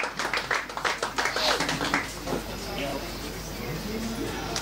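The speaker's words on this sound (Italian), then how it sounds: "Un grosso applauso al Eagles Aprilia calcio a 5 femminile." Applause at a futsal awards event for the Eagles Aprilia women's five-a-side team: scattered sharp claps in the first couple of seconds, then a busier crowd murmur with voices mixed in.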